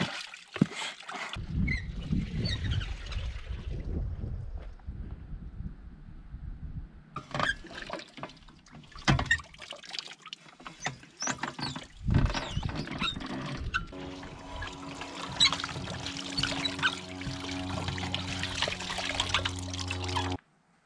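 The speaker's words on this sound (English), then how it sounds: "I'm just gonna go through and plunge it real quickly and go ahead and put it through a wringer" Water sloshes and splashes as laundry is plunged and squeezed by hand, with dripping and trickling, and a mechanical cranking rhythm from a wringer in the later part, at an off-grid cabin in Alaska.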